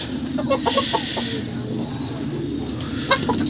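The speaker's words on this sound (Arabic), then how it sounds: "هذه الفرخة اللي بتبيض اهي" Egyptian backyard chickens, including a laying hen, cluck in short bursts near the microphone amid general farmyard noise, with a soft voice briefly in the background.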